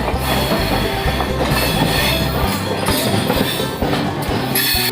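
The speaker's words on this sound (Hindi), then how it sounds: "तो 2 मिनट रुकने के बाद अपनी ट्रेन निकल पड़ती है मोतीपुर रेलवे स्टेशन से।" The Sapt Kranti Superfast Express pulls out of Motipur railway station. A loud, steady rumble of railcars carries rhythmic wheel clacks and squeals close by.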